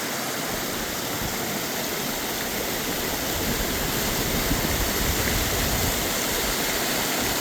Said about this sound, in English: I'm headed to the waterfall up there to get a picture of the top